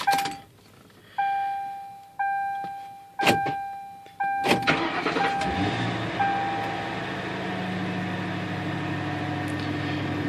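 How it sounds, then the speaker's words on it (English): A 2004 Mercury Grand Marquis with a 4.6-liter V8 on a cold start: several chime tones sound first, then a brief starter crank catches and settles into a steady, even idle. "Vehicle starts right up"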